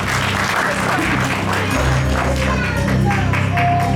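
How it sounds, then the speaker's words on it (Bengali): An audience claps steadily at a Saraswati Puja stage show, a dense, sustained patter of many hands that swells slightly toward the end, with some voices mixed into the crowd noise. "ওর জন্য আরো একবার হাততালি দিতে অনুরোধ জানাবো"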